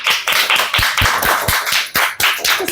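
An audience at a school English spelling bee applauds, a loud, close burst of rapid, uneven hand claps rising and falling in waves.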